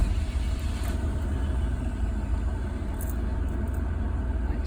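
A 1985 Fleetwood motorhome on a Chevy 454 P30 chassis runs with a steady, low engine rumble throughout, close and moderately loud, with no clear speech over it.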